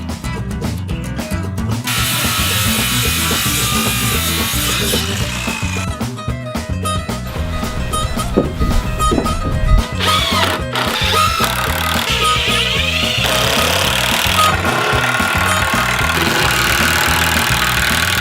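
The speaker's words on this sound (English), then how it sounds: "ripping down a couple of bits of timber to complete the framework" A power saw rips lengths of timber for the roof framework of a chicken coop, a loud, steady mechanical drone that runs close and continuously throughout with only slight shifts in pitch.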